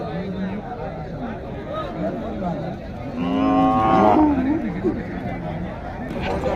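A cow lets out a long, loud moo over the busy chatter of a crowd at an outdoor cattle market in Tiruppur.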